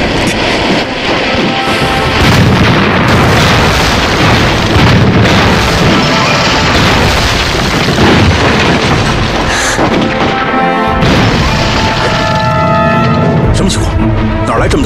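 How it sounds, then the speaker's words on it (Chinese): Loud, dense explosion noise in a war film about fighting Japanese troops, a sustained heavy roar of blasts and booms filling the whole clip with several sharper bursts, with voices mixed in. "这么大爆炸声"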